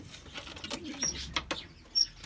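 Young white double-crested pigeons coo softly nearby in low murmuring bursts, mixed with rustling and a brief flutter of wings, with a couple of thin high squeaks.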